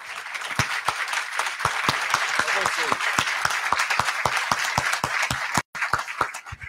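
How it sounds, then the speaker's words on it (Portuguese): Audience at a climate, forests and agriculture coalition plenary gives a steady round of applause, a dense crowd clapping with a few sharp, prominent claps standing out near the microphone, continuing evenly for several seconds with a brief dropout. "eu queria pedir uma salva de palmas, porque essa galera aqui trabalhou pra caramba"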